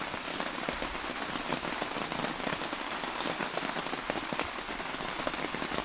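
Rain pattering steadily on a cheap camping canopy during a mountain thunderstorm in remote Appalachia, a dense, continuous close patter of drops with no talking.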